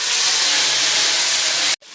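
Ground ginger, cumin and dried red chili paste hits hot oil for a Bengali-style khichuri, giving a loud, steady sizzling hiss that holds for nearly two seconds before cutting off abruptly.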